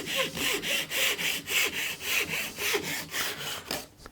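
Hand saw cutting through wood for a small box, with steady rhythmic strokes of about two per second, each a rasping push-pull sweep, close up and loud with no speech.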